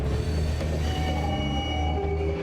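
Ore trains rolling along an Australian railway, a dense low rumble of wagons on rails with faint squealing wheel tones above it, steady and continuous, with no talking.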